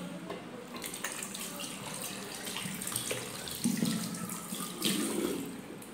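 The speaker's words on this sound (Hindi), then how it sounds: "और पहले मैं अपने हैंड्स साफ कर लूँगा," Hands are being washed under a running tap at a sink, with a steady close stream of water that splashes and shifts in tone as the hands move through it, and no talking.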